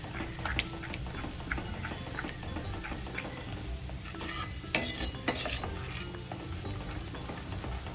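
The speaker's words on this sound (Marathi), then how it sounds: "सतत ढवळत राहायचं नाही तर दही फुटू शकतं" Curd being stirred in a pan over a very low flame while making malai paneer, heard as a steady, soft scraping and swishing with a few sharper utensil clinks near the middle, with no voices.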